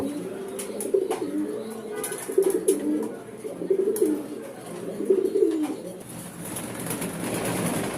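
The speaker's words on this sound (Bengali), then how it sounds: "তো এই হচ্ছে মাদি কবুতরটা" Racing pigeons coo close by in low, rolling bursts that repeat every second or so, including a female, with faint rustling and background noise between calls.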